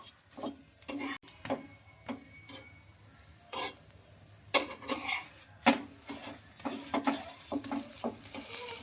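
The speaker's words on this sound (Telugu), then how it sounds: "ఇంకా ప్రెస్ చేసుకుంటే కూడా కాల్చుకోవాలండి, లోపల వరకు మనకు బాగా ఫ్రై అయిపోతుంది" Rumali paratha roti frying in a little oil on a hot pan, a steady soft sizzle with repeated scraping and pressing clatters of a spatula against the pan, plus a couple of sharper knocks, no talking.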